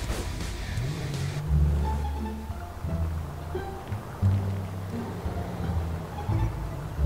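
Cars in a demolition-derby style sumo challenge on platforms, engines droning and revving in low rumbling surges with a brief burst of hiss early on, fairly close and loud throughout.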